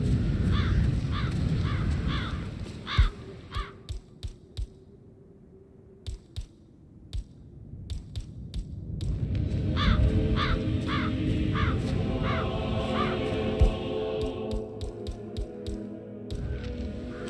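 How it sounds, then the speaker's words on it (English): Crows cawing in the video game Hitman 3, repeated harsh caws in irregular bursts over a low rumbling ambience, some calls overlapping, fairly close. "Damn birds."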